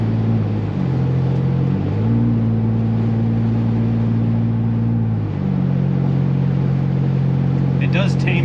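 Exhaust drone from a 2021-or-later Ford Bronco fitted with a Flowmaster FlowFX exhaust, holding a loud steady low rumble that steps up and down in pitch, heard from inside the cabin with a voice over it.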